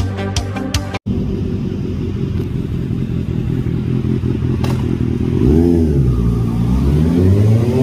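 A loud motorcycle engine roars up close, revving up and down in surging waves with a deep, throaty rumble and a rattly mechanical edge.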